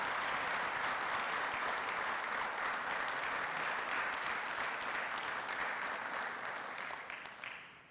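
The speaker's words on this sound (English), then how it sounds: "So please give Melissa a round of applause for making that happen." A city council meeting audience gives a round of applause, sustained dense clapping that holds steady and then tapers off near the end.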